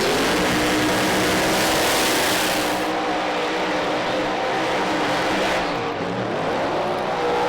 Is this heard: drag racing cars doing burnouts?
yes